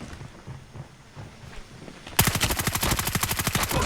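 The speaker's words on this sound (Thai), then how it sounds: "ยิงหนัก ยิงหนัก ไม่มีอะไรครับ ยิงหนักยิงเลย" Heavy automatic gunfire in the video game Call of Duty bursts in after about two seconds of quieter background rumble, a loud rapid rhythmic string of shots continuing to the end.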